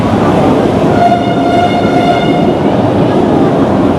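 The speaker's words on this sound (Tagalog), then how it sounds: "Basta siya na kayo sa ingay. Kasi nga malapit lang talaga tayo sa LRT." An LRT light rail train rumbles loudly close by a watch shop on Avenida, a steady roar with a faint high squeal over it, filling the whole moment.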